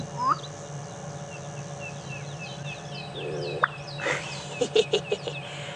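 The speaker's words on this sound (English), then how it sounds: "That's an amazing noise, and you're going to have to ask Kirby to do his black-bellied bustard call a little bit later." A black-bellied bustard calls during a sunset safari drive in the African bush, with scattered bird chirps, then a sharp pop followed by a short run of knocking notes, moderately close.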